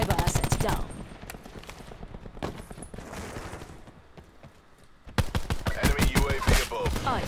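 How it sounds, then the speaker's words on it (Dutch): Gunfire in the online shooter Call of Duty Black Ops 4, including pistol shots, with bursts of rapid loud shots opening and closing the stretch and quieter sporadic pops in between. "Ik kill met mijn pistool."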